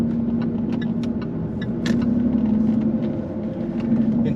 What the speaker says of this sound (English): that's the lurchy second gear lift off again